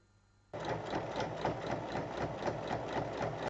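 A sewing machine stitching lining and outer fabric pieces of a small pouch together starts abruptly and runs at a steady, fast, even rhythm, close and clear with no voices, then cuts off.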